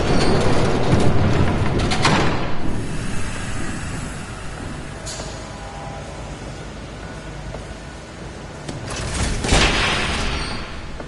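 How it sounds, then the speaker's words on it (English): A train approaches in the video game Batman: The Telltale Series, a steady loud rumble of rolling rail noise with a few sharp bursts. "There's a train coming."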